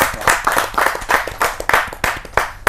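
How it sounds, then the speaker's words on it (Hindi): A small poetry-reading audience at a Hindi kavi chaupal claps in a loose, steady rhythm, close and moderately loud, with sharp repeated hand strikes running through the whole stretch and no voices. "जोरदार ताली के साथ हम"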